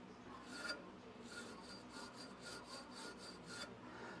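Rust being scraped off the metal surface of a utility trailer, with faint, repeated rasping strokes in a steady back-and-forth rhythm and no talking.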